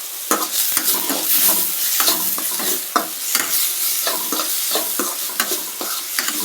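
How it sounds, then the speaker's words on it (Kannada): Curry leaves frying in a hot pan, with a steady broadband sizzle broken by repeated sharp scrapes and clicks of stirring. The sound is close and fairly loud, and nobody speaks. "ಸ್ವಲ್ಪ ಫ್ರೈ ಆದರೆ ಸಾಕು"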